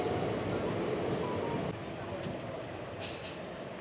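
The 13431 Balurghat Express rolls to a halt at a station on the Azimganj to Malda Town run, a steady rumble of rail wheels that drops partway through, with a brief hiss of air near the end.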